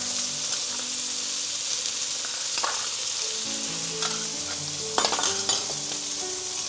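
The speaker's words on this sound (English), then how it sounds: "This why it's a stir fry. You're just going to need to stir right in the pan." Garlic stir-frying in a hot pan over a high flame, a constant loud sizzle broken by a few utensil scrapes and clicks, near and free of speech.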